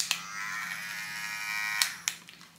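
An electric spinning makeup brush cleaner runs with a steady high-pitched whirring buzz, broken by a few brief clicks and bumps near the end, fairly close with no talking.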